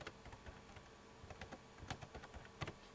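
Fingers type on a computer keyboard, with quick, light, irregular keystroke clicks heard close but quiet against a hushed room. No one speaks.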